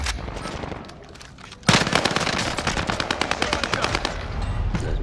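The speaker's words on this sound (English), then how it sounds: "That's my fault, bad shooting." Automatic gunfire in the battle royale shooter Warzone, a sudden loud burst of rapid machine-gun shots after a quieter stretch, rattling on in fast repeated volleys to the end.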